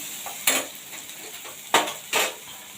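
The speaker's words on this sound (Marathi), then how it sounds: "इथे आपला कांदा आणि टोमॅटो चांगला भाजला गेलाय तेलावर" Onion and tomato being fried in oil for a drumstick and potato curry, a few sharp spatula scrapes and clacks standing out over a low, steady sizzle.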